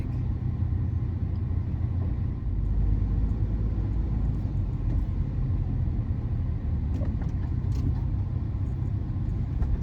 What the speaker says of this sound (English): so I don't have to deal with all this traffic.